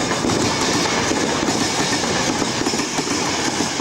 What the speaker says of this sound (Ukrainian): І ось відійшов наш поїзд